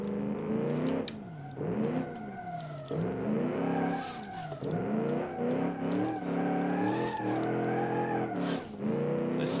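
A muscle car in a racing video game revs and shifts, its engine note climbing and dropping over and over while tyres squeal through corners. The sound is close and continuous.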